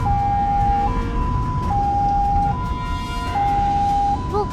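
An ambulance siren wails steadily in alternating two-tone pitches from an emergency vehicle rushing a patient through morning rush-hour traffic, loud and close over constant road rumble, with no voices.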